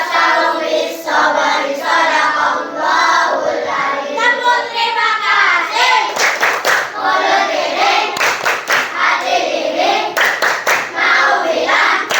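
Rhythmic hand clapping during an online lesson, in steady sharp beats that mostly accompany voices chanting or singing along, with a few louder clap runs in the second half.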